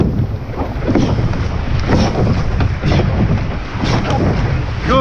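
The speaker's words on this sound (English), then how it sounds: "a lot of waves coming." Ocean waves rolling past a boat in open water, a loud continuous wash with heavy wind buffeting the microphone and rhythmic surges of water.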